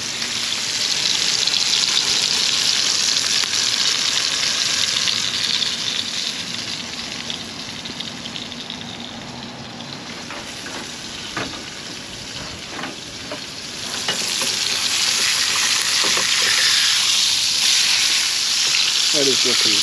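Food sizzles and fries loudly in a pan on a camp stove while being basted, a dense crackling hiss that dips slightly midway with a few scraping and clinking sounds, then swells again.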